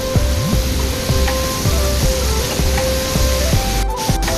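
A swollen mountain stream rushes past in a constant loud wash of water noise, with a repeating mechanical pulse running underneath.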